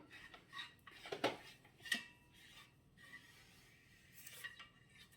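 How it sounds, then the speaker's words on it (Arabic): An over-under shotgun barrel is scrubbed during cleaning, with quiet intermittent metallic scraping and a few sharp clinks and rasps, faint and close. "كندور شويه باش نحك الكانون"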